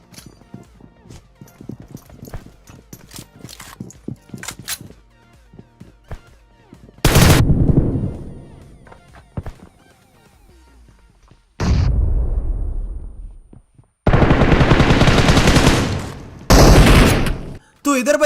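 Gunfire in the mobile battle royale game PUBG, including a Kar98k: scattered single shots and short bursts, then several long loud blasts of heavy firing close by, with someone talking over parts of it.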